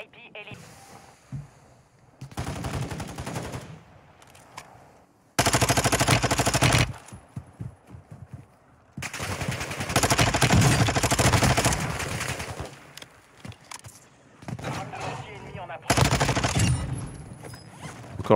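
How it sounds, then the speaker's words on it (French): A sniper fires on the player in a shooter game, loud cracking gunfire arriving in several heavy bursts separated by quieter stretches. "Encore le sniper qui me tire dessus."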